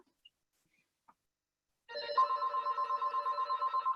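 A telephone rings in the background of a quiet room, a steady electronic trill starting midway and repeating in quick pulses, fairly faint.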